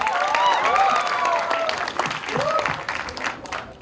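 A crowd at a film trailer launch event applauds and cheers, a broad wash of clapping with a host speaking loudly over it and excited voices rising through the noise.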